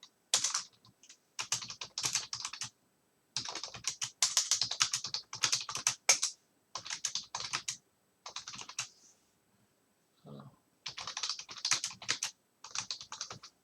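A note is typed on a computer keyboard in quick bursts of close, crisp key clicks, with short pauses between bursts and no talking.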